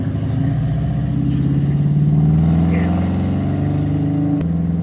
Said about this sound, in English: Sitting here idling like this, it wouldn't do it.